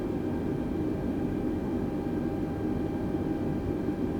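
A simulated Airbus A320 in Microsoft Flight Simulator 2020 rolls for takeoff on runway 04 right, a steady broad engine roar holding constant and loud throughout with no voices.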